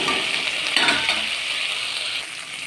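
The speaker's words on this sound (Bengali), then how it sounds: "আরেকটু মশলাটা ভালো করে কষিয়ে নেব" Spice masala for egg curry, seasoned with salt, stir-fries in oil with a steady, close sizzle and a brief scrape of the stirring utensil partway through. There is no talking.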